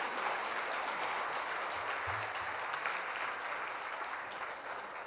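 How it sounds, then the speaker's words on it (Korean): An audience at a Korean national report conference gives a big round of applause for two presenters, steady dense clapping filling the hall from start to finish. "발표자 두 분께 그동안 수고했다는 의미에서 다시 한번 큰 박수 한번 보내주실까요?"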